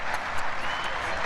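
Grêmio supporters in a football stadium applaud in a steady, dense patter of clapping heard from a distance, with faint crowd murmur underneath.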